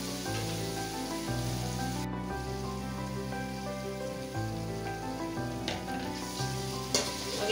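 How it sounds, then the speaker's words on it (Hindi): Ground spices with garam masala and black pepper powder sizzle steadily on a low flame in a pan for paneer pulao, a continuous close frying hiss with occasional stirring. "अब इसे लो फ्लेम पे थोड़ा भूनूंगी मसाले को।"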